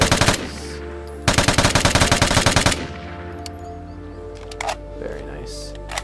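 Rapid automatic fire from an L85A1 rifle in the video game Vigor, a short opening burst followed by a longer, loud, evenly spaced string of shots, then quiet game ambience with a few faint clicks.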